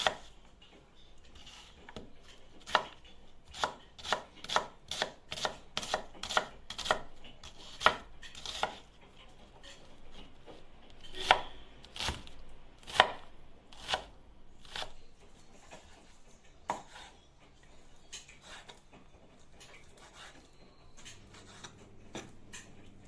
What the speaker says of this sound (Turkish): Soğanımızı doğrayarak başlayalım.